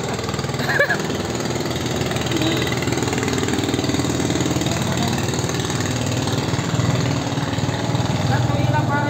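A Yamaha NMAX motor scooter engine runs with a steady, throbbing idle-like drone, close and loud throughout, while people talk over it.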